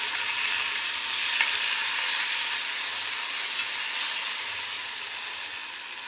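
Soaked chana and moong dal go into hot oil already spiced with cumin, mustard seed and asafoetida, and they fry with a steady, loud sizzle and hiss all the way through, with no voices over it.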